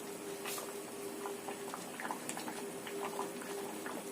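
Mung bean porridge boils in a pot, thickened with added starch, giving a steady close bubbling with scattered soft pops and plops over a constant low hum.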